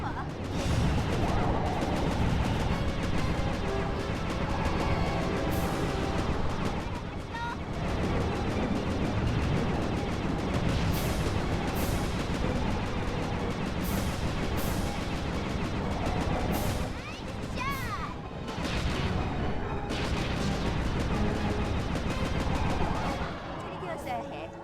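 Tail gunner gunfire in a video game, as sustained loud bursts of shots and crashes run nearly throughout amid dense game sound, with voices talking over it.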